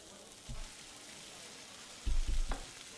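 Sausage frying in the video game One Armed Cook, a faint steady sizzle with a few brief low thumps and louder bursts near the end.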